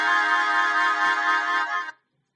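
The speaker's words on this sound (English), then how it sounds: "Sound of flute." A synthesized flute tone generated in Mathematica holds steady and bright for about two seconds, then stops abruptly into silence.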